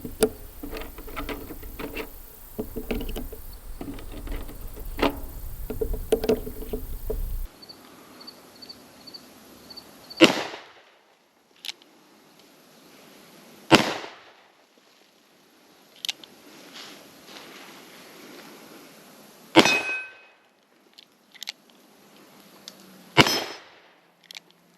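A Smith & Wesson Model 19 revolver fires .357 Magnum rounds in single action, several sharp, loud reports spaced a few seconds apart with quieter handling clicks between, after an opening stretch of busy noise.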